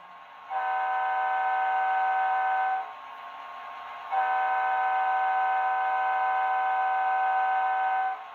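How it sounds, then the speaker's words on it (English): Two long, steady blasts of a multi-tone air horn from an HO scale Amtrak Metroliner model train sound decoder, loud and close, separated by a short pause, with a low engine hum underneath. "F2 is the air horn."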